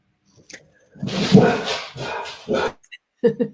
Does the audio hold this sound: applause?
no